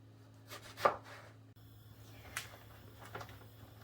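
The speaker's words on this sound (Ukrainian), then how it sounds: "І ріжемо абсолютно всі. Для цього ми взяли кілограм баклажанчиків." A few quiet knife strokes through eggplants on a cutting board, spaced irregularly, faint and close with a low hum underneath.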